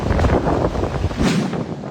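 Strong typhoon wind by the sea at Lemery, Batangas, during Typhoon Christine, roaring continuously as loud, buffeting gusts batter the microphone with a low rumble.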